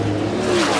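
NASCAR stock cars racing at Darlington, a loud steady engine roar that rises slightly in pitch as the cars sweep by, with no voices.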